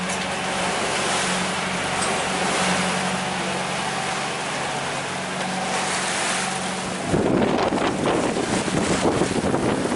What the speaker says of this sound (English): Another tough day of beating upwind, isn't it?